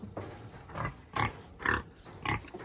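Feeder pigs on a farm grunt and oink in four short bursts, fairly close and moderately loud, with quieter snuffling between.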